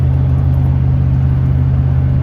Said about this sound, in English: This car runs good and quiet for an old car, doesn't it?